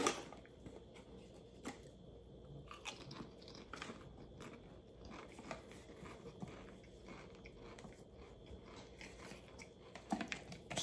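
Sour cream and onion Pringles chips being bitten and chewed, close crisp crunches repeating through the whole stretch, with rustling between bites and no talking.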